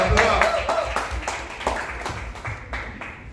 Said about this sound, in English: Clap, let's clap it up.